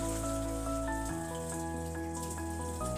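Large pabda fish being washed by hand in water, a steady splashing and trickling close by with a tonal hum running underneath, no talking.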